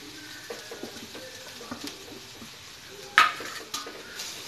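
Plantain poriyal with grated coconut is stirred in a pan: light scraping and tapping of a spoon on metal, with one sharper clank near the end, close and fairly quiet over a faint sizzle.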